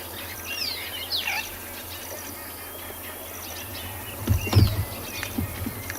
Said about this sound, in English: Mainly grey-headed sparrows. A couple of waxbills.